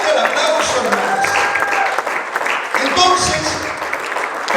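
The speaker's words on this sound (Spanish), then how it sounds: "Fuerte el aplauso, hermanos." Congregation in a church claps loudly, a dense, continuous wash of applause with voices calling out over it.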